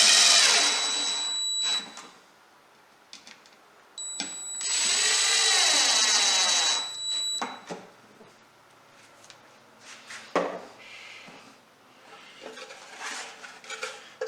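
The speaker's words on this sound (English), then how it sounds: "I'll run 2 holder screws." A cordless power drill drives holder screws into a Beecastle beehive, with two close, loud whirring runs of a couple of seconds each, followed by lighter clicks and handling noises as parts are fitted.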